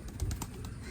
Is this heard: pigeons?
yes